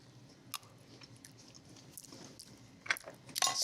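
Someone tastes Italian salsa verde from close by, giving soft scattered chewing and wet mouth clicks over a quiet room, a little louder toward the end.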